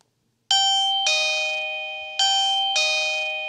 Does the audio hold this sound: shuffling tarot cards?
no